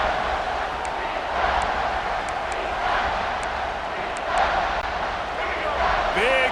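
A big stadium crowd at a Texas A&M at Georgia college football game roars in support of the defense, a dense, sustained wall of cheering from a distance, with a commentator talking over it.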